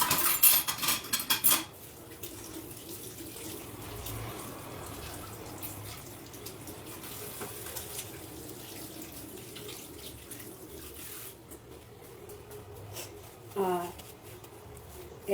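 Dishes and cutlery clatter under a running kitchen tap after dough-making, with a loud burst of clinking at the start, then steady water flow and occasional utensil knocks, while a person talks nearby.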